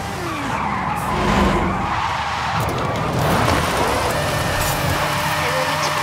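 A car drifting in the video game Forza Horizon 5, with sustained tire skids and squeals over a revving engine, loud and continuous with brief pitch swoops as the slide changes.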